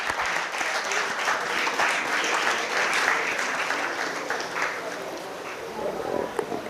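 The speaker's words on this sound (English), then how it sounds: "A round of applause, please." Audience applause at a startup conclave session as guests are welcomed to the dais, sustained dense clapping from the hall, steady and moderately loud with faint voices underneath.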